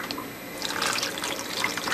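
Hot water pours for making gelatin, a brief, soft splashing trickle heard up close with no talking.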